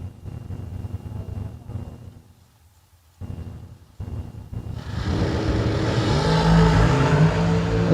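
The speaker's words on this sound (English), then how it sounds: "Keep your eye on that dragster in the right lane." Nick Ferraro's dragster at a drag racing season kick-off event charges down the right lane, a loud sustained engine roar building after a brief lull and holding strong to the end.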